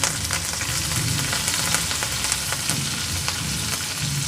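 Garlic cloves and green chillies frying in hot oil with cumin for a dhaba-style dal fry, making a loud, constant crackling sizzle with tiny pops throughout and no voices.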